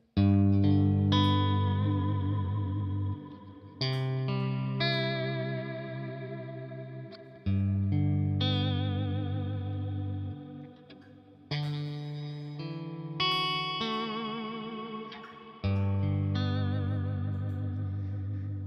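Clean electric guitar strums open triad chords, each ringing out long with lush reverb and a shimmering chorus, changing chords every few seconds.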